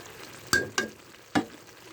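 Green chilies, six of them cut up, hit a hot pan of red amaranth greens with three sharp crackling bursts over a faint steady sizzle, no talking.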